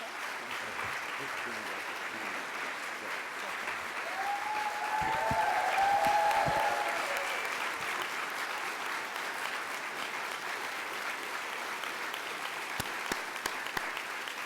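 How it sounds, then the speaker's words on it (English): Sustained applause from a large conference audience, a dense wash of clapping that swells briefly with a few cheers, then continues steadily. "stand up once again for another round of applause"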